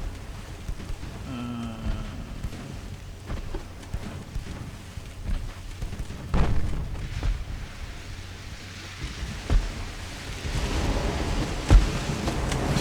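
Naval guns fire in Ultimate Admiral Dreadnoughts during a 1910 British battlecruiser engagement: a few deep, distant booms roll over a constant sea-and-wind ambience, with no voices.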